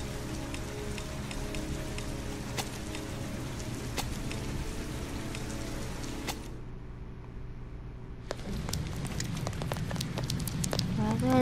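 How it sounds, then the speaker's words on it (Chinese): Rain in the video game Heavy Rain, a steady hiss of drops on surfaces with occasional sharp drip ticks, briefly dropping out before returning with a louder low rumble, moderately near. "你看那个滴水像就像真的水一样，雨滴一样。"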